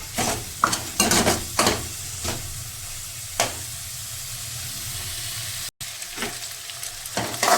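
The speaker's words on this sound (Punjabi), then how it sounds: "ਇਹ ਸਾਡਾ ਮਸਾਲਾ ਕੱਚਾ ਹੈ ਇਹਨੂੰ ਚੰਗੀ ਤਰ੍ਹਾਂ ਅਸੀਂ 10 ਮਿੰਟ ਤੱਕ ਹੋਰ ਭੁੰਨਾਂਗੇ" Masala sizzles in oil in a pan for paneer bhurji, with a steady frying hiss and repeated scraping stir strokes, loud and close.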